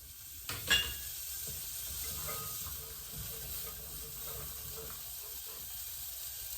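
Beans frying in salted butter in a hot pot over medium heat give a steady close hiss and sizzle, with a brief louder crackle near the start as they go in, then an even bubbling sizzle throughout.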